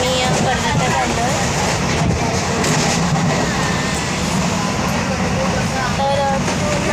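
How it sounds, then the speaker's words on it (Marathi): Inside a moving passenger train, a steady rumble of wheels and carriage noise fills the space, loud and continuous, with a few voices speaking over it. "आम्ही ट्रेनमध्ये बसलो आहे."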